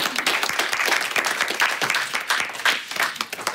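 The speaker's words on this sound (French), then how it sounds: "Je pense qu'on pourrait déjà commencer par les applaudir." Audience applause at a French event honoring two guests, a fairly dense patter of many hands clapping at moderate volume throughout, with a few louder individual claps standing out.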